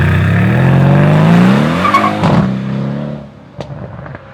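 Mercedes-AMG C63S facelift V8 in sport mode revving up loudly, the engine note rising over about two seconds and then dropping away, with a few sharp crackles and pops at the tail.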